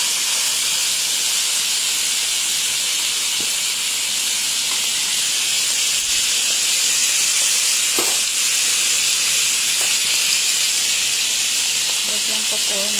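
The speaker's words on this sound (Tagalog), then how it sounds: "Pressure cooker ko po. Kaya po malambot na siya." A pressure cooker steadily and loudly releases steam, a constant hiss that lasts throughout, with faint clicks and small sounds beneath it.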